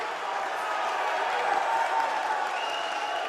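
Steady, dense crowd noise at a high school wrestling tournament final, cheering and applauding for the winner, continuous and moderately loud throughout.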